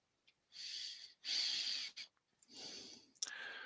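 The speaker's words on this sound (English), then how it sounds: "I can hear my heavy breathing on the mic." Heavy breathing close into a microphone at the start of a live stream, several loud breathy huffs and sharp snorting inhales and exhales in an uneven rhythm with short gaps between them.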